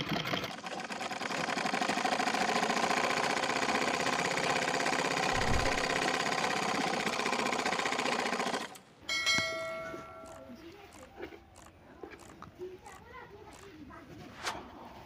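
A sewing machine runs a test line of stitching after its thread tension is adjusted: a steady fast whirring hum for about eight seconds, close and loud, then stops, followed by quieter handling clicks and background noise.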